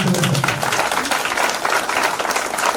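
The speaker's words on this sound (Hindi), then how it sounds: "जोरदार ताली, जोरदार ताली, जोरदार ताली" Loud, sustained applause from a crowd, dense clapping filling the whole stretch without a break.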